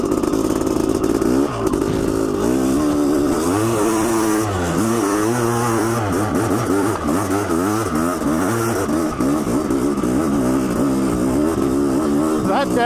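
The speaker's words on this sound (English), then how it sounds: "Might have to twist the throttle on this one." A Honda CR500AF two-stroke motorcycle revs hard while climbing a very steep hill, its loud engine note rising and falling continuously for the whole stretch with throttle surges and some clatter.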